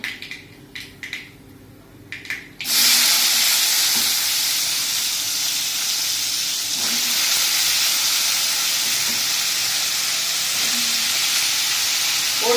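Squeezed eggplant dropped into hot oil with turmeric, a few quiet clinks before a sudden loud burst of sizzling that settles into a steady close hiss of frying, no talk.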